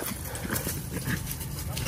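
Puppies whimpering and yapping close by, small high cries scattered over a rustling background, with people talking at the same time.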